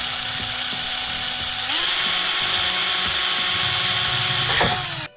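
A cordless drill whines steadily, its pitch stepping up partway through, with faint clicks and knocks underneath before it cuts off abruptly.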